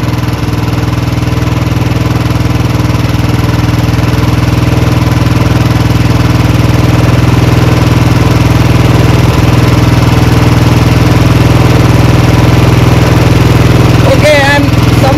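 Royal Enfield Bullet 350 UCE single-cylinder engine idling during carburettor tuning, a loud, close, continuous thumping idle that holds steady throughout with no talking over it.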